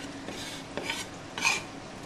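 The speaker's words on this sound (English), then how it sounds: "I'm going to use sort of the back of the knife to squash it down" The flat of a knife blade presses and slides over garlic on a cutting board, making two or three short, close crunching scrapes with quiet pauses between them.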